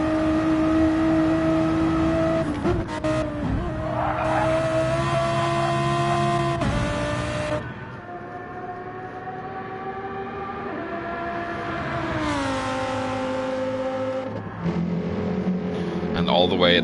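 A V6 turbo Nissan GTR race car in a 24 Hours of Le Mans racing game holds a steady high engine whine that drops and rises through gear changes, with a commentator talking over it.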